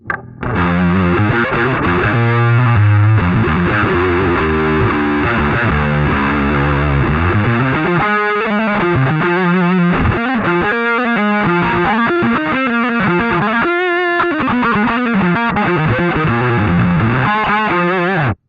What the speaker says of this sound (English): So I use the transpose, which is a great effect. Just sounds like a bass